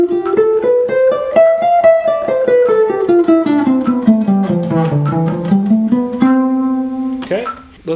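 A string instrument plays a scale exercise starting on C on the fourth string, plucked notes climbing step by step and then descending, ending on a long held note, close and alone.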